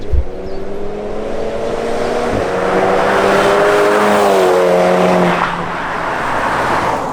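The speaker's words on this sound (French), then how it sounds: "Là, je vous fais une accélération de dehors" Stage 2+ tuned Volkswagen Scirocco R of about 350 hp revving hard outdoors, a loud rising engine note with harmonic sweeps building over several seconds, then easing briefly before climbing again, no talk.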